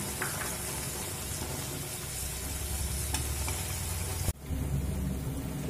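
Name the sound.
pre-fried vegetables added to dal and stirred in pan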